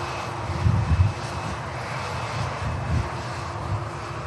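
TUI airliner jet engines roaring at Manchester Airport during takeoff, a steady broadband rumble with a few brief louder swells, heard at a distance with no talk.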